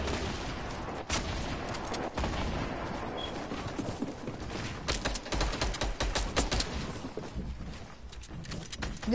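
Dense, rapid gunfire crackles without pause through a solo video game match, with overlapping shots and bursts coming from several directions at a steady, loud level.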